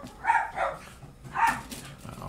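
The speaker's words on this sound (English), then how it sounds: "outside we have my wild dogs, which you might have heard" Dogs bark outside, a few sharp, moderately distant barks in two short bursts with quieter room noise between them.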